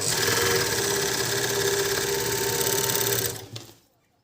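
A Prima overlock sewing machine stitching fabric, its steady fast mechanical whir running loud and close for about three seconds before winding down and stopping.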